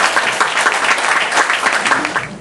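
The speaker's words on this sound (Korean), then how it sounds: "정말 우리의 성원과 감사와 뜨거운 박수로 모시도록 하겠습니다." Steady, dense applause from a church audience welcoming a speaker, many hands clapping continuously at a loud, even level throughout.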